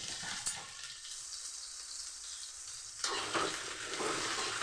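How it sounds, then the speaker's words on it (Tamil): Bitter gourd and broad beans sauté in about ten grams of oil in a pan, a faint steady sizzle with a couple of soft stirring knocks, briefly dipping quieter before the frying noise returns. "கொஞ்சமாக ஒரு பத்து கிராம் எண்ணெய் கூட போட்டுக்குவோம் போட்டு அலசி போட்டு நல்லா வதக்கி எடுத்துக்குவோம்"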